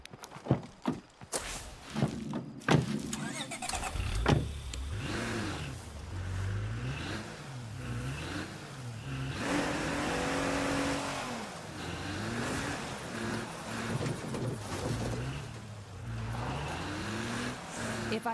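A car driving in the zombie survival game State of Decay 2, its engine droning steadily with rising and falling revs for most of the stretch, mixed with footsteps and other game noises near the start.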